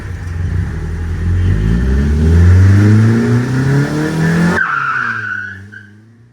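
Turbocharged Suzuki Samurai, freshly repaired, revs hard as its tires skid and squeal, the engine note climbing loud and close before cutting off abruptly, leaving a brief fading whine and low rumble.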